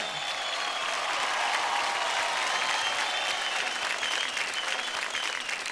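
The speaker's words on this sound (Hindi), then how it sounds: "रॉकिंग, जोरदार तालियां हो जाए" Studio audience applause at a televised kids' dance competition, a dense, continuous wash of clapping held at an even level throughout, with no voices over it.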